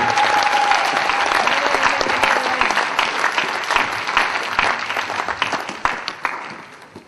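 A church congregation breaks into loud, sustained applause during a night service, dense clapping that fills the room and gradually thins toward the end, with a short sung or called tone near the start.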